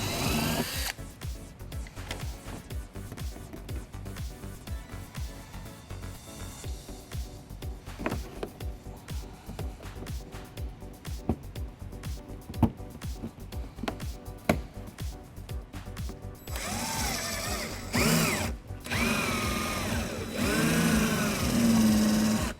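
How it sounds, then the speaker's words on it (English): A small drill bit bores out plastic trim rivets on a 2008 BMW X5 in rapid, chattering bursts that run on for about sixteen seconds before giving way to a smoother, steadier whir near the end. "we're going to drill out the center of it using a small drill bit and then pop it out using a trim panel tool"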